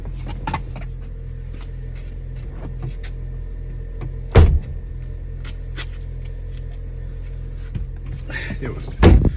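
A car's rear door thumps shut twice, a dull slam around the midpoint and another at the end, over a steady idling engine hum.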